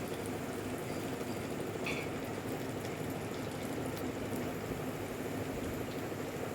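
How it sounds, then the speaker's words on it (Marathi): Spices fry in hot oil for a raw mango pickle, giving a steady, continuous sizzle at an even level throughout, with no talking. "तेल टाकून एक एक वस्तू परतून घेऊ. तेलात एकदम छान तळली जाते सेपरेट."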